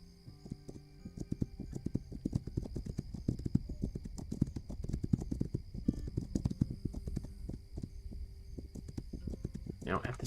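Steady clip-clop of horse hooves from the Native American stealth strategy game This Land is my Land, a brisk regular rhythm running nearly ten seconds at moderate level with a faint hum beneath.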